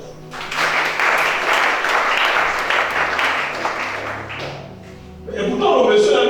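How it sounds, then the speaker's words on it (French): Congregation applauding during a church service, a sustained burst of clapping for several seconds that fades, followed by a voice and renewed noise. "Acclame ça."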